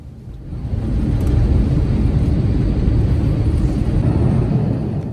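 An airliner takes off from Doha bound for Vienna, heard from inside the cabin as a loud, steady low engine roar that builds in the first second and then holds.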